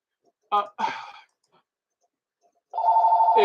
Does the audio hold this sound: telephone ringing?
yes